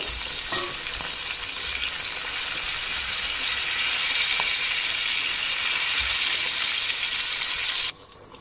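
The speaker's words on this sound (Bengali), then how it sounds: "এবারে এর মধ্যে আমি আলুর টুকরোগুলো একটু ভেজে নেব।" Potato pieces fry in hot oil with a loud, continuous sizzle and hiss, close and steady, with a few faint utensil taps, until the sound cuts off abruptly near the end.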